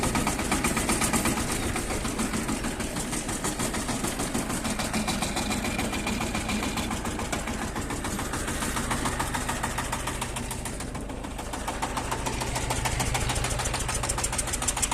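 A Shifeng diesel tractor engine runs steadily with a rough, rapid knocking rhythm, loud and close, with no voices, while working clay soil.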